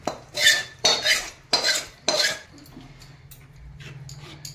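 A utensil stirs butter and milk cream together in a pan, four distinct bursts of scraping and clinking at a steady pace, then quieter stirring without talking.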